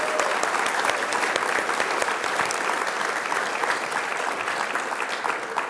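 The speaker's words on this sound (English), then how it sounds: "Let's give a big round of applause for Leucadia Streetscape." Audience at a city State of the City address applauding steadily, a dense wash of many hands clapping at even loudness throughout with no voices on top.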